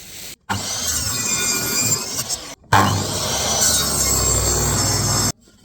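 Pieces of wood being sawn to the same length for a large shed, loud close grinding cuts in two long passes separated by brief pauses.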